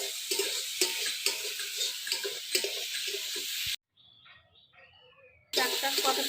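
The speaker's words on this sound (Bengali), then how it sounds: "শাকটা কত সুন্দর করে ভাজা হয়ে গেছে" Fenugreek greens fry in a pan with close sizzling and repeated stirring clatter for several seconds, then a brief near-silent gap with faint sound before the frying noise resumes; no one talks.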